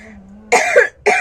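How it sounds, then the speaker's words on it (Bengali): A person nearby coughs twice in quick succession, loud harsh chesty bursts close to the microphone after a moment of near quiet. "কাশি শুরু হয়ে গেছে"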